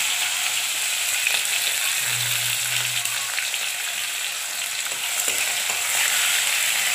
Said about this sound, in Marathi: लसूण कढीपत्ता टाकला मी तेलामध्ये, त्याच्यामध्ये टमाटा टाकलेला, तेल चांगलं करपलेलं